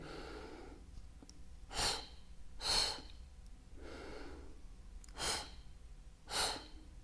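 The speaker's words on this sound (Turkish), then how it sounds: "Burada derin nefes alıp iki nefes vereceğiz" Close breathing from a birth breathing exercise: soft, drawn-out breaths alternate with four sharper puffs of air, each exhale split into two short bursts, steady and unhurried with no speech.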